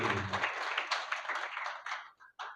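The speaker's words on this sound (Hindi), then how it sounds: "तालियां राजकुमार सैनी जी के लिए।" An audience at a large community youth federation meeting applauds, dense clapping that thins out into scattered claps before fading.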